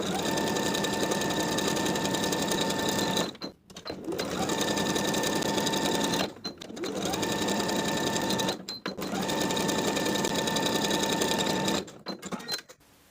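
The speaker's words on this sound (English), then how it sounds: "Then we'll sew right on top of each line, sewing both layers together." A sewing machine stitches along elastic casing lines through two layers of a summer dress with a shirred open back, running in four long, steady bursts separated by short pauses.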